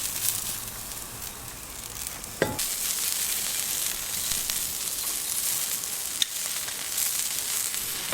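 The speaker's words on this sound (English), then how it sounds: "the samphire, sizzling as it hits that griddle plate" Samphire sizzling on the hot griddle plate of a Weber Q gas grill, a steady close hiss of frying with a couple of sharp pops and clicks, no voices.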